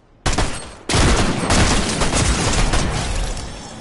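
Rapid Fortnite gunfire in a loud, dense burst of shots, a brief opening volley then a sustained fusillade of overlapping bangs that runs on for several seconds, close and harsh with no talk.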